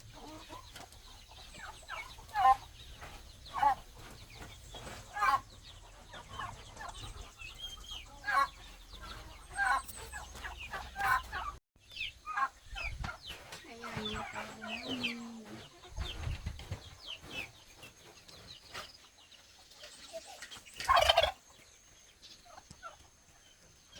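Chickens cluck and a rooster calls in repeated bursts on a quiet early-morning farm, fairly faint and spread out, with occasional soft talk in between.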